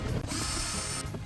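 A ratchet wrench turns out wheel arch screws on a car, giving a close, loud burst of rapid mechanical clicking that runs steadily for just over a second, with no voices.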